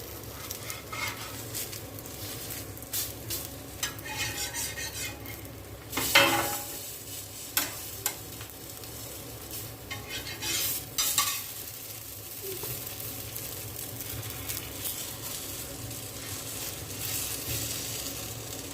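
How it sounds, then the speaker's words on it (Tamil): Jalar appam batter frying in a non-stick pan, giving a steady close sizzle with occasional stirring or utensil clinks and no voices. "நான் ஸ்டிக்லேயும் ஜாலர் ஊற்றிருக்கேன்"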